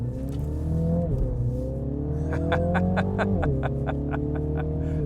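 A John Cooper Works Mini Countryman accelerates hard in sport mode, its engine note climbing steadily through the gears with a brief drop at each shift, loud and close from inside the cabin.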